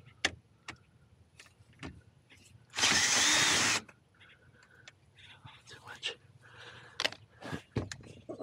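A power drill runs in one loud, steady burst of about a second while solar panels and Enphase IQ8+ microinverters are wired up, set among quieter handling clatter and faint whispered talk.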